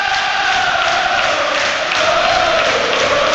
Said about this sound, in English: Well, just listen to the crowd around us now.